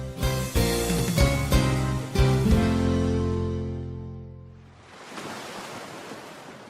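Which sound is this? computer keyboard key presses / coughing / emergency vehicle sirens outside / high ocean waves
high ocean waves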